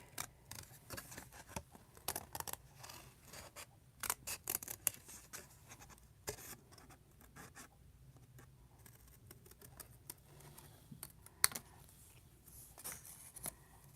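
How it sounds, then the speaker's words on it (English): Scissors snip the bottoms out of white cardstock for a slimline card, a quick run of close, crisp cuts and paper rustles in a quiet room. "And then cut the bottoms out, and we'll see what that looks like."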